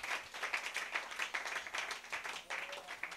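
A church congregation claps together during a French-language sermon, a dense, steady patter of many hands that stays moderately loud and continuous, with faint voices mixed in underneath.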